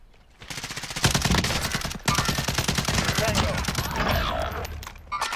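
Rapid bursts of SA87 rifle fire in Call of Duty: Warzone, a dense, loud stream of close gunshots running almost continuously with a brief break, under occasional game sounds.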